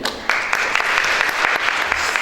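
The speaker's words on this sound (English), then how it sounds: "give yourselves a round of applause for being here" An audience claps steadily at a lecture event, a dense, even wash of applause lasting throughout with a few sharper individual claps near the front.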